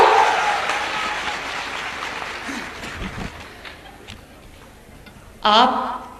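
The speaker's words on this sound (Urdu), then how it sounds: "تالی بجاؤ." An audience at a student event claps, a dense patter that thins and fades out, followed by a brief loud voice near the end.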